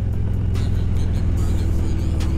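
A Harley-Davidson Road Glide Special motorcycle revs hard under throttle, a loud, close, deep engine rumble with repeated surging pulses.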